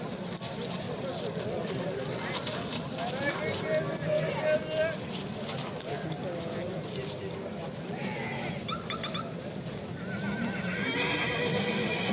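Horses at a livestock market neigh and whinny amid hoof clops and a busy crowd, with voices talking throughout.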